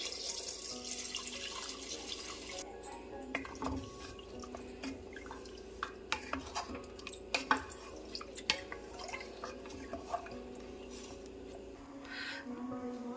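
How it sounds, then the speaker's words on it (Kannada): Water running into a pot for mutton leg soup, a soft steady splash under scattered drips and light clinks of kitchenware, faint and close. "ನಾನು ಇದಕ್ಕೆ ನಮಗೆ ಎಷ್ಟು ಬೇಕಷ್ಟು ನೀರು ಸೇರಿಸ್ಕೊತಾ ಇದ್ದೀನಿ"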